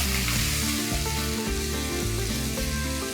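Ginger and garlic paste sautéing in a pan, a dense, loud sizzle that carries evenly throughout with a few faint stirring scrapes and no voices.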